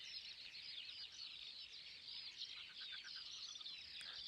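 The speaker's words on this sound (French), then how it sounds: "mais tu entends tous les oiseaux qu'il y a." Birds that nest in the ground chirp and twitter across a treeless Armenian mountain meadow at sunset, a faint, dense chorus of high calls from a distance with no talk.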